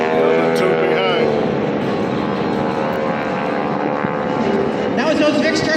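Several propeller planes flying in formation past a beach air show at Jones Beach by the water, a steady loud engine drone sweeping by with crowd voices and talk over it throughout.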